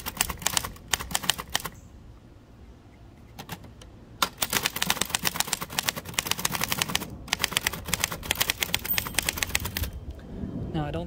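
Outdoors, a 1925 Remington Model 2 manual typewriter clatters with bursts of rapid, sharp keystrokes, broken by short pauses and one longer gap, all close and crisp.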